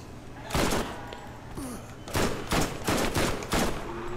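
SMG fire in the shooter game Borderlands, several separate short bursts with pauses between them, loud and close among other faint game noises.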